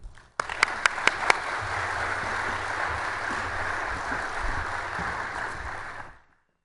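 Audience applause fills a general-session hall at the WASTECON 2012 conference to welcome the Lawrence lecturer. A few sharp, distinct claps open it, then dense, steady clapping holds for about six seconds before stopping abruptly.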